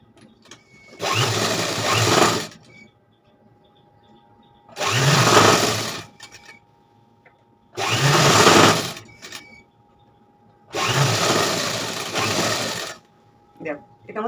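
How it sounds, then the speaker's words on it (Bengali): Four separate bursts of a sewing machine stitching a bracut blouse, each lasting about a second or two, loud and close, with quiet gaps and some talking between them. "তাহলে চলো আমি সেলাইটা দিই তুমি দেখো"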